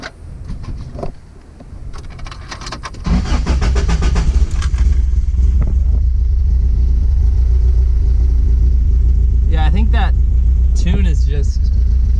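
A Toyota 22RE four-cylinder pickup engine cranks and catches after fuel injector replacement, then settles into a loud, steady close idle with a low rumble, while people talk briefly over it.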